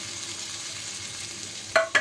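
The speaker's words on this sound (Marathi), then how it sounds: "आता गॅस पेटवलं आहे आणि त्याच्यात कढई तापत ठेवल्याने तेल ओततं आहे आणि त्याच्यानंतर ओला खोबरा पहिला भाजून घ्यायचा" Grated fresh coconut frying in oil in a kadhai, a faint low sizzle that runs steadily, then two sharper scraping stir strokes near the end.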